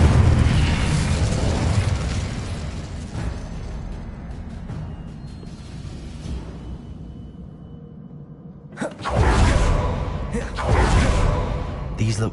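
Incendio fire spell cast in Hogwarts Legacy: a loud, sustained roaring whoosh that fades, then near the end a sharp burst erupts into a strong fiery blast followed by another surge.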